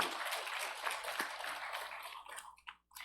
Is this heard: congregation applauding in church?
yes